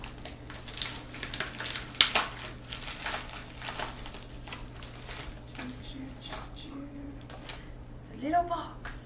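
Paper crinkles and rustles close by in bursts, with a few sharper tearing crackles as wrapping is pulled open.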